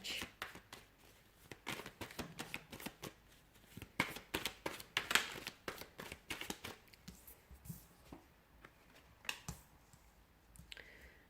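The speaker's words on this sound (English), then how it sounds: "we'll give the cards a shuffle and see what's coming in" Tarot cards being shuffled in quick riffling bursts, crisp and close, with short pauses between rounds of shuffling.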